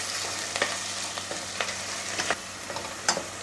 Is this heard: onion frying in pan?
yes